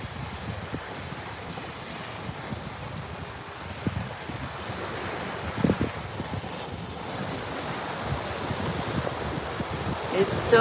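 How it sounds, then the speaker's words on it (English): Gentle, lake-like Atlantic Ocean waves wash onto a Florida beach, a soft rolling surf with low wind rumble on the microphone throughout and a few slightly louder swells. "These waves are lake-like, but this is actually the Atlantic Ocean"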